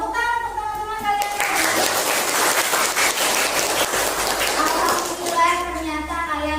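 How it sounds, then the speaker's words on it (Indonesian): Classroom applause from schoolchildren clapping together, a dense steady burst of hand claps mixed with excited children's voices, close and loud, tapering as a teacher's voice returns at the end. "Tepuk tangan untuk teman-teman kalian"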